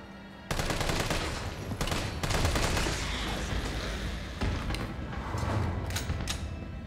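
Rapid bursts of gunfire in Resident Evil 3 Remake, loud and close, firing in dense repeated volleys with brief gaps between them over a steady background.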